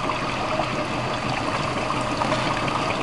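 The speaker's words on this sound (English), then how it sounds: "just let the water flush it out" Water runs steadily through a gold concentrator, flushing material down. It is a constant close trickling and splashing with no pauses.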